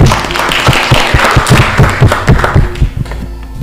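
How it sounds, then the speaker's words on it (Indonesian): A classroom of students claps together in a math lesson, loud close hand claps in a quick, roughly rhythmic burst that trails off near the end. "Oke, tepuk tangan dulu."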